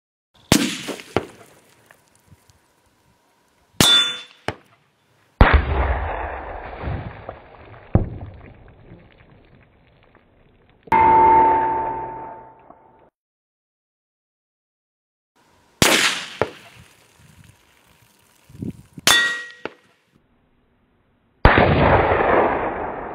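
Rifle shots fired outdoors at a steel target 500 yards away, a series of sharp loud cracks spaced several seconds apart, each followed by a trailing echo and decay, with silence between.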